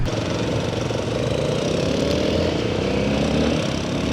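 A motorcycle engine running steadily and close at the start of a ride toward the Colombia–Ecuador border, a continuous droning hum with no talk.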